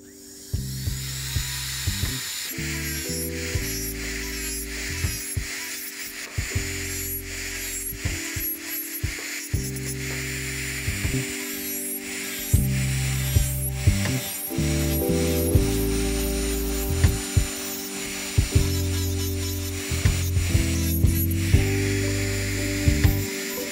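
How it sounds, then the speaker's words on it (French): An electric nail sander grinds polish off a fingernail during a salon demo, its high whine rising and dropping in pitch as the speed shifts, with repeated short contacts against the nail and no talking. "j'attrape ma ponceuse que vous connaissez maintenant"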